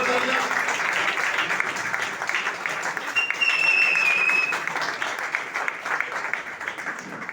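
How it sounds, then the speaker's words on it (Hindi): Steady, dense applause from an audience at an award and felicitation ceremony, loud and continuous throughout with a faint voice mixed in. "एक बार आपको थोड़ा तालियां बजा दीजिए, थोड़ा तालियां।"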